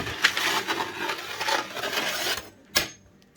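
Hot wax is scrubbed on a snowboard base with rapid, close, rough brushing strokes that go on for a couple of seconds, then stop, followed by one short sharp scrape.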